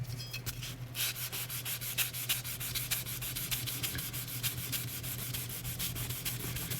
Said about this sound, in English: And from here it's sandpaper.